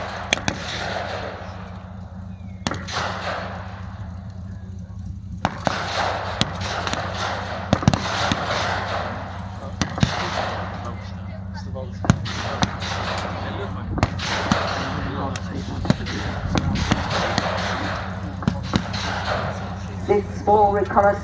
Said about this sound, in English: They've taken cover, they're returning fire